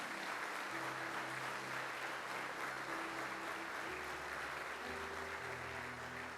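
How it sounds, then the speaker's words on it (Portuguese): Quiet, continuous applause fills a church service, a soft wash of clapping from the congregation with low sustained organ or keyboard tones beneath. "Aplauda Jesus."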